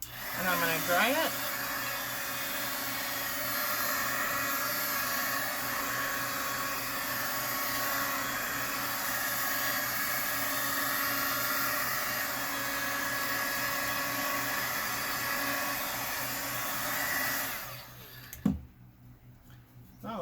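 A blow dryer runs steadily for about seventeen seconds, a loud close whooshing hum drying alcohol ink on tiles, then cuts off, followed by a soft knock.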